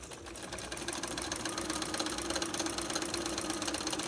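A sewing machine pieces a quilt border for a queen-size Drunkard's Path quilt, running in one steady, continuous whir throughout at close range.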